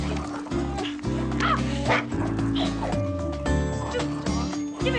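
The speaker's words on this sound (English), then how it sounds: "Stupid dog." A dog named Snickers barks and whimpers in quick yips amid a busy scene with music and voices underneath, the yelps repeating rapidly and close.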